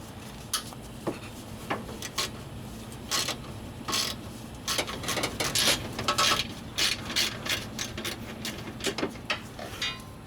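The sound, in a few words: extended 1/4 inch ratchet loosening bolts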